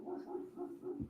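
A neighbour's dog barks in the distance, four or five quick, faint, tonal woofs in a steady rhythm within about a second, with no voices.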